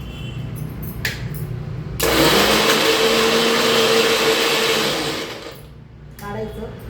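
A small mixer grinder blends garlic chutney, starting abruptly and whirring loud and steady for about three seconds before winding down, with a brief clatter beforehand.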